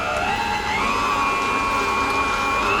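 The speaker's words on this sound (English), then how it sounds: "I'm going to whisk that together until it forms nice soft peaks" Cream and icing sugar are whisked toward soft peaks with an electric whisk, giving a steady, close, continuous motor whir whose pitch rises slightly partway through.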